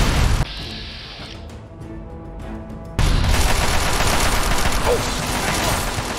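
Loud automatic gunfire and impacts in a post-apocalyptic shooter, a heavy burst at the start, then a quieter stretch with a droning tone, then another sustained barrage of dense crackling shots.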